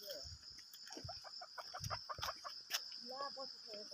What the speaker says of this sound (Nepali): कुखुरा क्वाङ क्वाङ क्वाङ क्वाङ गर्छ